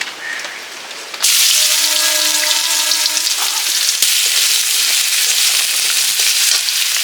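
Loud, steady sizzling of garlic hitting hot oil in a wok, a sudden burst that keeps crackling and hissing with occasional stirring clinks.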